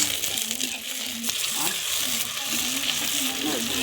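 Chopped tomatoes fry in a pan of oil as the base for a South Indian fish curry, meen kuzhambu, with a steady close sizzle and occasional stirring scrapes, while a voice talks over it.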